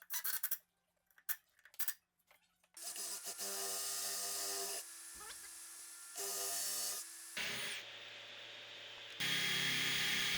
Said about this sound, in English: So we use this special drill bit.